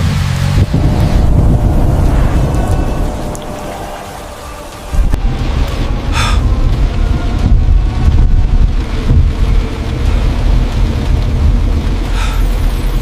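Stormy night wind roars steadily with rain and thunder, a dense continuous rush with low rumbling that briefly eases in the middle before surging back at full strength.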